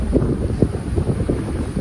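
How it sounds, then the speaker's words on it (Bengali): Wind gusts buffet the microphone outdoors on a breezy day, giving a low, rough rumbling roar that rises and falls in short pulses throughout the brief moment. "এখন খুব সুন্দর হাওয়া দিচ্ছে"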